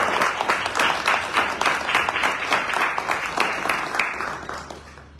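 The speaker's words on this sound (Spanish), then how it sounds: "Liliana Bianco, a quien les pido por favor que la recibamos con un caluroso aplauso" An audience at a cultural magazine event gives warm applause, steady close clapping with distinct claps audible in the mix.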